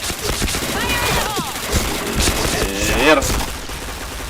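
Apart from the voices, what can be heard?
gunfire and headshots in the video game Point Blank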